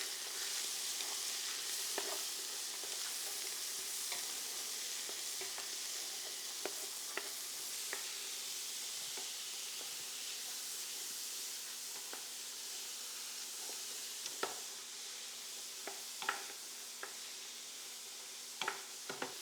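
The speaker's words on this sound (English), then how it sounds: "we're going to use the bacon fat in the pan, of course, to saute our vegetables." Chopped celery and yellow onion sautéing in rendered bacon fat in a pan for seafood chowder. A soft, continuous sizzle and hiss runs throughout, broken by occasional light clicks and pops.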